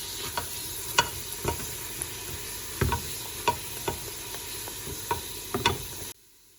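Potatoes with garlic paste and spices sautéing in butter in a pan, a soft steady sizzle broken by regular stirring scrapes and light clinks of the spoon, close and clear with no talk.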